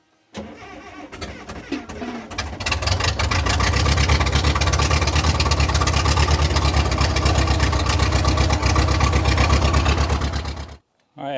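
Cat Traxcavator 922B diesel engine cranking briefly, then catching and running steadily with a loud, close, rough idle that cuts off abruptly near the end.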